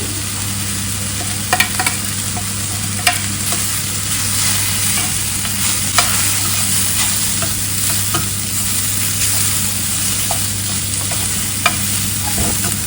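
Ginger and garlic sizzle steadily in a pan for a Kerala chow-chow thoran, with a constant frying hiss broken by sharp scrapes and clicks of the spoon stirring.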